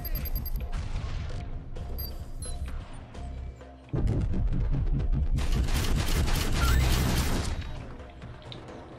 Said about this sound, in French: La fusillade que j'attendais.